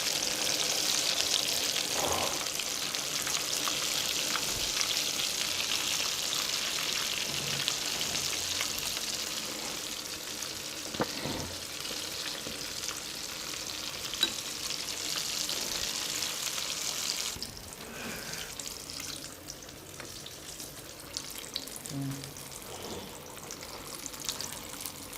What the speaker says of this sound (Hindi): इनको गोल्डन ब्राउन होने तक फ्राई करते रहें